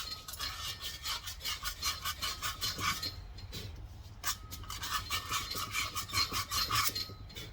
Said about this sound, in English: Now I'll take a piece of 80 grit, hand jam it a little bit, get that center drill cleaned up as best you can.